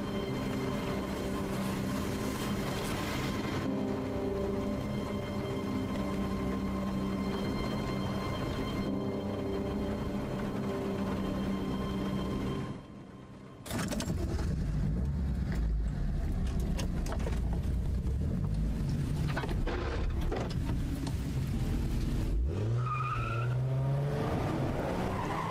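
Car in the Silent Hill 2 Remake driving into a lake: a steady engine drone with tire noise, then a louder rushing, churning passage and splashing water toward the end, with no talk.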